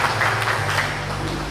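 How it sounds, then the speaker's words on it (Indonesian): Audience applause in a hall at a business success event, an even, continuous patter of many hands clapping, moderately loud, with no voices over it. "Tepuk tangan untuk para 9 crown yang lain"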